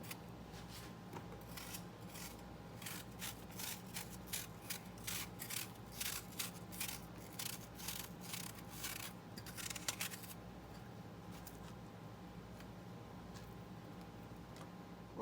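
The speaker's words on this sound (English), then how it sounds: "now we're going to just peel this Pink Lady apple. And we're going to dice up little bitty pieces of diced up apples" Knife work on a Pink Lady apple for a Greek yogurt bowl: peeling and dicing into small pieces, with a run of quick, close scraping and tapping strokes that stops about two-thirds through, leaving quiet room tone.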